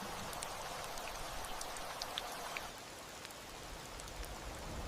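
Steady rain falling in a jungle, a constant hiss of drops with scattered patters, no voices.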